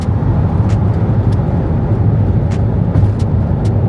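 Supercharged Ford Coyote V8 swapped into a car during a hard pull: a loud, steady, dense engine roar heard up close from inside, with no pauses, under no talk.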